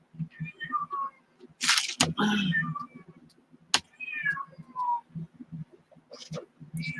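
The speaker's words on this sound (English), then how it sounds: "Ignore the cat in the background." A cat meows repeatedly in drawn-out, wavering cries, with short pauses between calls and a sharp click or two in the mix.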